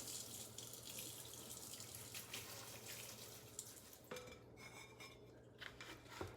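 Tap water runs steadily into a sink while dusty houseplant leaves are washed, a faint continuous splashing with occasional light clinks of dishes and cutlery nearby.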